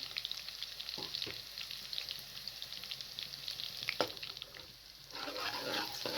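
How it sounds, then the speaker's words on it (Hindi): Garlic, ginger and nigella seeds sizzle steadily in hot oil over a medium flame, a constant crackling hiss with occasional stirring clinks, fairly close and moderately quiet. "जैसे ही ऑयल गर्म हो जाए तो इसके अंदर कलवंजी, लहसुन और अदरक को शामिल कर दें।"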